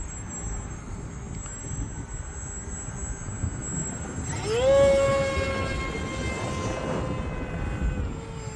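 A HobbyZone Aeroscout RC plane flying in gusty wind: a thin motor whine that rises in pitch, swells louder as it passes nearby, then fades again over steady wind noise.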